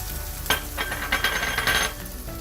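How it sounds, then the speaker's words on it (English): Pork masala and tomatoes sizzle in a heavy-bottomed copper pan, a close, steady frying hiss punctuated by bursts of stirring and scraping. "So I'm going to add all of it in here, along with the tomatoes that I chose to cut lengthwise."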